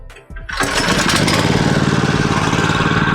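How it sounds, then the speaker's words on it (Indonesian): Firman FTL610W cultivator's small petrol engine starting up close: a brief pull and sputter, then it catches and settles into a loud, steady, rapid-firing run with no talk over it. "Oke, lanjut sekarang kita nyalakan mesinnya."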